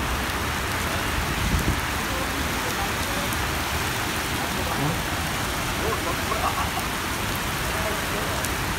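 Heavy rain pours steadily in the UAE, a dense, continuous hiss of drops striking surfaces at constant loudness with no talk over it.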